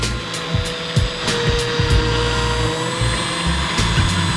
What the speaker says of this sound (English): She's going to whiz it together just to make sure all the colors are thoroughly blended.